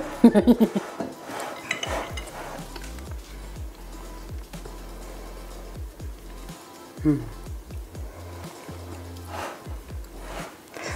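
Dishes and a mixing bowl being scraped and wiped clean after shaping sugar-tart dough in a home kitchen, with repeated light clinks and knocks of utensil against the bowl, close and fairly quiet, some brief louder taps.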